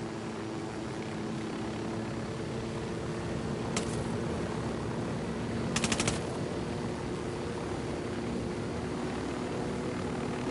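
A helicopter in Ghost Recon Wildlands drones with a steady low rotor-and-engine hum throughout, loud and close, interrupted by two short bursts of rapid gunfire.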